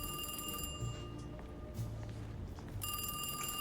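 A telephone on a desk rings in a video game, a bright electronic bell trill sounding at the start and again near the end with a quieter low hum between, no speech.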